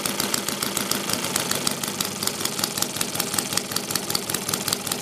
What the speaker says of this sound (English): We'll see if we can slow the idle down a little bit.